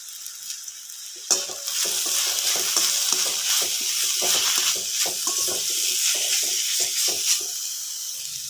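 Crushed ginger and garlic fry in a hot pan, a steady close sizzle beginning abruptly after a quiet second, with frequent scraping stirs punctuating the hiss throughout and no talking.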